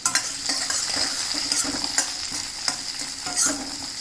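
Raw mango pieces frying in a generous amount of oil for a mango dal, giving a dense, continuous close sizzle with repeated spatula scrapes and taps against the pan throughout.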